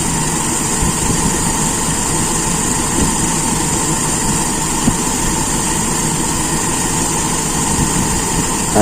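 A Toyota Kijang engine idles steadily with its Aisan carburetor being adjusted, a loud, close, continuous droning hum with a faint high whine, running evenly without revving.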